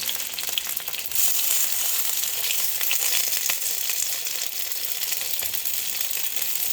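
Vegan fried rice ingredients dropped into hot oil, a continuous bright hiss of frying that swells after the first second and holds steady, close by with no talk.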